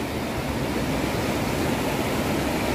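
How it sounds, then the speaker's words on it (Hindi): A mountain waterfall high in the hills, around 12,000 ft, roaring as a steady, dense wash of rushing water, close and loud with no pauses or voices. "यहाँ पे ये वाटरफॉल है, बहुत सुंदर वाटरफॉल था"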